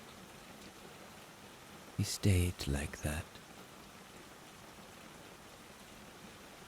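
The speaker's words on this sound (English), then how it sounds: "listening to the rain" Steady, soft rain falling on a greenhouse, a quiet continuous hiss throughout, with someone briefly speaking over it in the middle.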